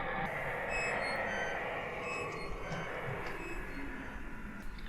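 Beeping sound effect from a Doctor Who episode: a thin series of high electronic beeps over a dense rumbling background, continuous throughout with no clear speech.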